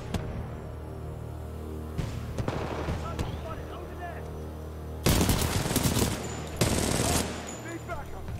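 Automatic gunfire in the video game Titanfall 2, loud bursts of rapid shots in the second half over a steady low game hum, with earlier scattered shots and voices talking.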